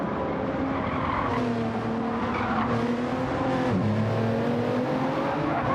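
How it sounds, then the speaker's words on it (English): A Supra race car in the LPB Super Supra Cup at the Nürburgring GP circuit slides out of a corner with squealing tires as the engine holds a steady, loud drone under hard throttle. "Pash with a big slide out the corner there, just getting that power on, aggressive on the throttle there"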